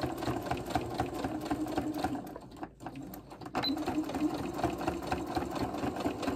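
An embroidery sewing machine stitches an in-the-hoop quilted bowl cozy, a loud, rapid, steady mechanical hum and clatter that briefly dips and pauses midway before resuming at the same pace.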